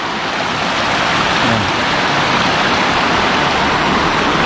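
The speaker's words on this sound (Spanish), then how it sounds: "Este es el río." A river flows at a popular bathing spot near a bridge, making a loud, steady rush of broadband water noise without pause.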